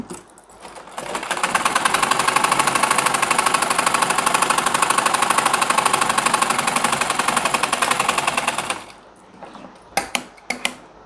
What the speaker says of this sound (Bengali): এখন এই মাথায় আমরা সেলাই করে দিচ্ছি